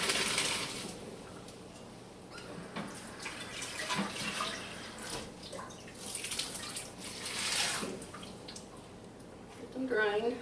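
Cooked potato cubes drained into a sink, water splashing and pouring at moderate volume in uneven surges, with a few clinks near the end.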